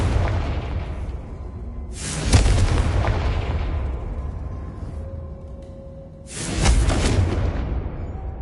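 Two booming Confringo spell explosions in Hogwarts Legacy, a few seconds apart, each a loud sudden blast trailing into a rumbling tail.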